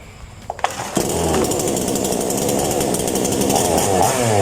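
An Arto 7500 E gasoline chainsaw starts after a few light clicks and roars into a loud, continuous, buzzing engine drone close by, running steadily to the end.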